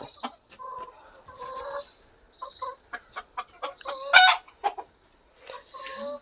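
Chickens cluck in short, scattered bursts close by inside a spacious coop about eighteen feet long, with a brief louder squawk near the end and quiet gaps between calls.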